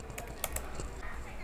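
Quiet clicking of code being typed on a computer keyboard, a short run of scattered keystrokes over a faint background hum.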